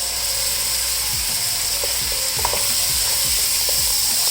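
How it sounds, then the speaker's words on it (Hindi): Boneless chicken frying in oil with vinegar added, a continuous loud hiss and sizzle with repeated scraping stirs against the pan. "चिकन को फ्राई होते तकरीबन 2 मिनट हो गए हैं"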